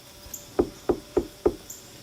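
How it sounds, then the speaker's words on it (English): Four evenly spaced knocks on wood, sharp and close, tapping out a steady rhythm in an otherwise quiet outdoor morning with a faint hiss behind. "I knocked on wood, Jack, just in case."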